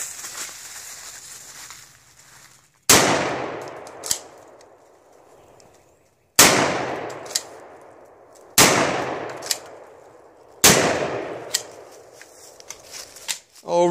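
Four loud pistol shots from a custom Ruger LCP fired outdoors at a target about 15 yards away, each sharp crack spaced a few seconds apart and trailing off in a long echo.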